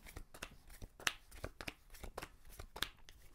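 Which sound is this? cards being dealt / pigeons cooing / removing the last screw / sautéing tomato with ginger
cards being dealt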